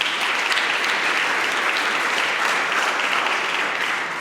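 Audience at the European Charlemagne Youth Prize 2021 ceremony in Aachen applauds a project's representative, producing dense, steady clapping at constant loudness that fades a little at the close.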